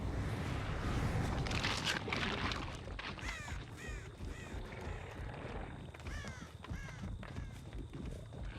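Crows caw in a horror video game, their harsh repeated calls coming in bursts over a noisy game backdrop at moderate-to-faint level, with no voices.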